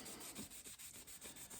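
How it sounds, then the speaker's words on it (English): A lead airgun slug being wiped clean with a 3M cloth, a short steady rubbing sound with a few rhythmic strokes, close and soft, with no talking. "3M cloth and give it a quick wipe"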